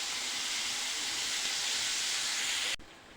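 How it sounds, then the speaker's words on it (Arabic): Zinger chicken fries in hot oil with a continuous bright sizzling hiss, close and steady, before it cuts off abruptly near the end. "منظر القرمشه باين في الزنجر وهو في الزيت"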